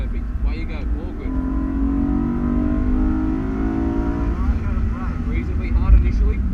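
A car accelerating onto the straight at a Wakefield Park track school, its engine droning loud and steady throughout while a voice talks over it.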